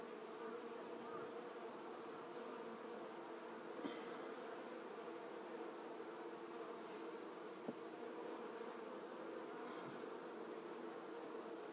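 Honeybees buzz in a continuous, even drone while a hive is inspected frame by frame, faint but constant with a few soft knocks.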